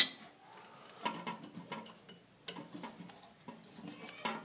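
A plastic toilet fill valve nut being loosened by hand gives quiet, close clicks, scrapes and knocks in irregular bursts, with no talking.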